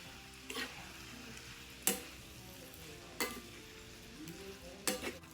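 Crab rice seasoned with seafood seasoning is stirred in a pot over a low sizzle, with four distinct spoon scrapes or clanks spaced a second or so apart.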